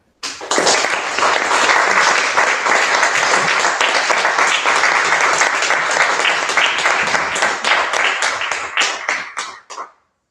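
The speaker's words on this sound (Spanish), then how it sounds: "Bueno, sí, están aplaudiendo, ves ahí a todas." A seminar audience applauds at the end of a talk, with a dense, steady round of clapping that holds for about ten seconds before quickly fading out.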